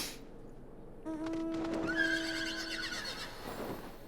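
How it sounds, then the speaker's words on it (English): A horse neighs in Final Fantasy XIV, a loud, clear whinny that rises and falls over about two seconds, with faint hoof clip-clop around it and no talk. "Why did I just hear a demon horse?"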